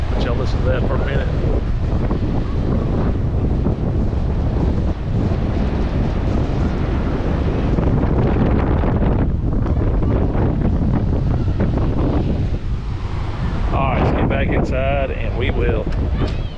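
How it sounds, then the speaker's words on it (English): Hard seaside wind driving big swells, heavy continuous rumble and microphone buffeting for the whole stretch, briefly easing near the end as faint voices come through. "The wind is humongous out here. Blowing hard, creating some huge swells."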